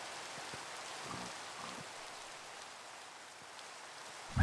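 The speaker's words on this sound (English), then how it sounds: "It's been very rainy today and I love it." Soft, steady rainfall with faint patters of drops on a surface, quiet and constant, ending in a brief louder knock.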